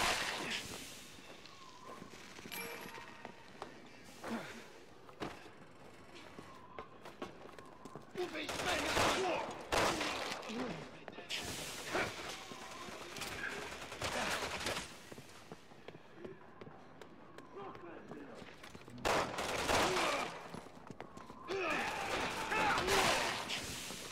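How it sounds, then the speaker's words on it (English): Resident Evil 6 gunfire rings out during Jake's campaign in chapter 1. Bursts of rapid shots come at intervals, loud and sharp over a low game background, with voices heard now and then. "We're gonna have to shoot our way out."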